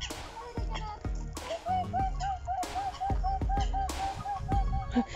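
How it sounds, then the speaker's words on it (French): Repeated nasal honking calls from ducks at a lake, a rapid series of quacks and honks near the listener, with background commotion and occasional voices. "Deux petits canards."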